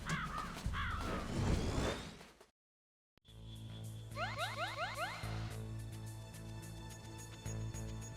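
Raven caws in Metal Gear Solid, a few harsh, repeated calls first, then after a brief silence a second passage of game sound with quick rising electronic chirps over a steady low hum.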